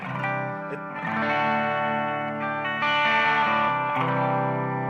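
Electric guitar played through a Thorpy FX effects pedal rings out with sustained, shimmering chords and a clear, airy tone, shifting between a few chord changes with no talk.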